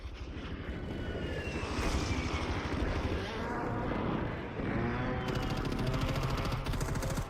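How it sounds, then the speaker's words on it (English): An airstrike aircraft roars overhead in a shooter video game, a loud propeller-engine drone swelling and passing amid rapid machine-gun bursts and rattling gunfire, dense and continuous. "Airstrike"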